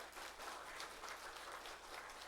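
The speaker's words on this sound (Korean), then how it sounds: "우리 박수 한번 칩시다." A church congregation at a Sunday worship service in Hongcheon claps together in steady, dense applause that holds at an even level, with no talking over it.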